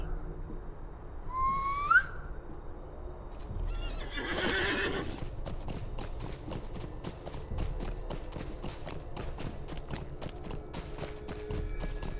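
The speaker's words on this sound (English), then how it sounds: "Horse." A horse in The Lord of the Rings Online video game whinnies and snorts, then hooves clip-clop steadily at a walking pace, with a light whistle-like tone near the start.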